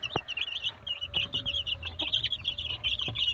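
Busy chorus of high, repeated peeping calls from young Indian Game (Cornish) chicks drinking kefir water, continuous and close, with occasional soft low clucks underneath.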